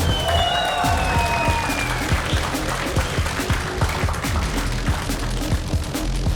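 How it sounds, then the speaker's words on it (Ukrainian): A crowd applauds as a bare-knuckle fist fighter is introduced at a fight club event, with loud, continuous clapping and a few whistles early on. "Зустрінемо Саню гучними оплесками"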